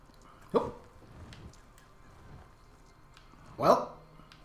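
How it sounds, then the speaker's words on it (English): A wolf cries out in The Elder Scrolls Online, two separate loud yelping calls a few seconds apart over a low game background. Faint speech is present. "that sounded like a wolf"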